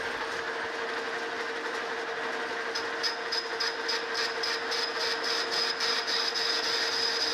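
A New Haven metal planer under restoration runs with a steady mechanical hum, then a rhythmic series of regular metallic clicks joins partway through, close and moderately loud, with no voices.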